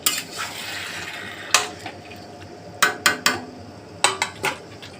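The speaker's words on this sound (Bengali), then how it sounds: "ভালো করে কষাবো, কষিয়ে তারপরে জল দেবো" Young jackfruit being stirred and sautéed in a pan, a metal spatula clanking sharply against the pan in irregular bursts over a soft, steady frying hiss.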